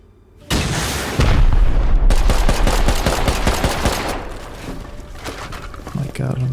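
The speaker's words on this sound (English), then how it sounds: "I'm gonna use rockets for this raid." Rockets fired during a base raid on a small 2x1 base in the video game Rust, with loud booming blasts and rapid gunfire-like bursts that run almost continuously, strongest in the middle and easing off toward the end.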